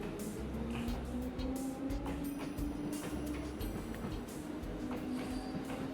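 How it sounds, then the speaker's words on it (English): Trains in the video game Trails of Cold Steel III give a steady rumbling run with rhythmic wheel clatter on the rails and a sustained humming tone, continuous and moderately loud throughout. "Two special trains at once."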